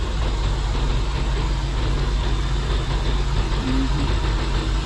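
A car's radiator cooling fan runs at low speed with the AC on, giving a loud, steady whirring drone with a low rumble beneath, unbroken and close throughout.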